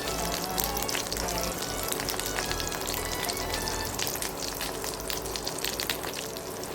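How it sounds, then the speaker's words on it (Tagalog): White eggplant frying in a pan, a steady dense sizzle and crackle of hot oil that stays even and close throughout, with no talking. "fry ko siya para sa aking tanghalian"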